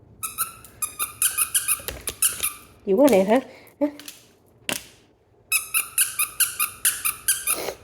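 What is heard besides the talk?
squeaky dog toy being squeaked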